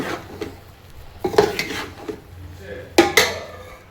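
A spoon stirs a mixture in a metal pot, giving irregular scraping knocks and clinks, a few sharper strikes among softer scrapes, close by with no talk.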